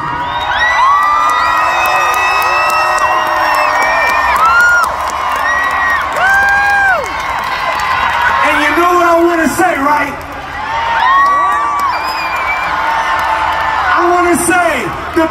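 A big Bay Area concert crowd cheering, whooping and shouting loudly and continuously, with someone talking over the roar.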